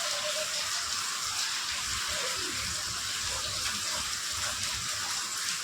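Steady rain falls throughout a village home while bhajiya fritters are being made, a continuous broadband wash of water noise with no clear breaks.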